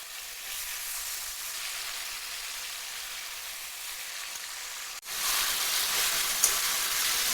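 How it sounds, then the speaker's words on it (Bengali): Boiled taro leaves drop into frying onions and garlic paste: a steady hiss runs at first, then a sudden, louder, rougher sizzle bursts in partway through and continues close by. "এবার আমি দিয়ে দেবো সেদ্ধ করা কচুর শাক।"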